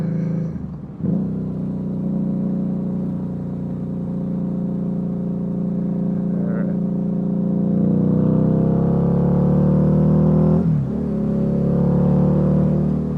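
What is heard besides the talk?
Harley-Davidson V-Rod motorcycle engine accelerating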